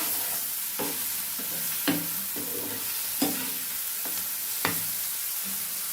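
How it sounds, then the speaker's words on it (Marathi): A spoon stirs a salted breakfast farsan mixture in a frying pan, giving periodic scraping strokes about every second and a half with soft sizzling underneath, close and moderately loud, no voices. "हे छान हलवून घ्यायचे मस्त"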